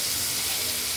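Fish pieces rubbed with salt and turmeric frying in hot oil, a steady, dense sizzling hiss that stays level and close throughout.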